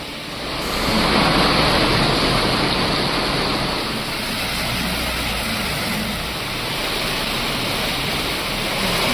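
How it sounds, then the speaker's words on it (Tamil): Heavy rain pouring down over the Chennai suburbs, a dense, continuous loud roar of broadband hiss that rises early and holds steady with no voices. "சென்னை புறநகர் பகுதிகளில் கொட்டி தீர்த்த கனமழை."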